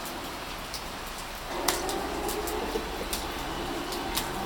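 Steady rain falling outdoors with water dripping from a gutter, a dense hiss of drops punctuated by occasional sharper splashes and ticks, growing slightly fuller partway through, with no voices.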